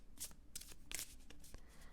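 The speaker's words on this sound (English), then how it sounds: "I really like shuffling it like this" A tarot deck with gilded edges and quality cardstock is riffle-shuffled close up, giving several quick crisp bursts of card flutter over a quiet background.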